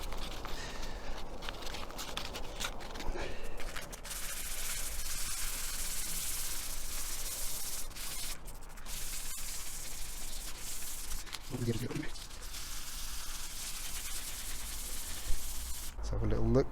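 Sandpaper of 800 grit rubs across a scratched car headlight lens in continuous, close scratchy strokes, a soft steady hiss with a few brief rustles and handling bumps.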